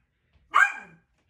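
A single sharp dog bark, close and fairly loud, rises out of near silence in a home sewing room and fades quickly.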